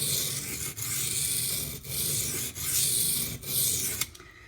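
A knife blade rubbed on a water stone in rhythmic strokes, each several seconds of steady close scraping hiss broken by short pauses as the stroke reverses, ending in a quiet clatter.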